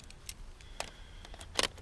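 Old, worn metal keys, including a vintage Master Lock key, jangle in a few short, bright bursts, the loudest near the end, against a quiet background with no talking.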